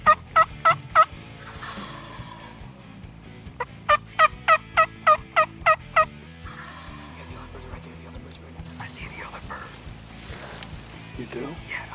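Wild turkey toms gobble in repeated sharp bursts, two rapid rattling calls at first, then a longer series of loud gobbles. Hunters whisper and talk quietly afterward.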